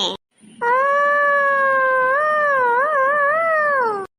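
A woman attempts the kulavai ululation at a Pongal celebration in Tirunelveli, producing one loud, close, sustained high-pitched tone that wavers and wobbles toward its end, sounding much like a dog's howl, for about three and a half seconds.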